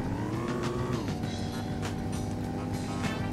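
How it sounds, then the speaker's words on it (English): A revving Porsche engine in the PS1 racing game Need for Speed: Porsche Unleashed hums steadily, its pitch rising then dropping sharply around the one-second mark before settling into a sustained drone. "I really like the engine sound of this car, to be honest."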